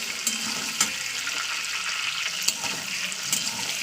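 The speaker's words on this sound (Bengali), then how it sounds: "আমি আলুটাকে ভালো করে ভাজা করে নেবো তেলের উপরে" Potatoes with salt and turmeric fry in oil, a soft, continuous sizzle broken by a few sharp clinks of a utensil against the pan.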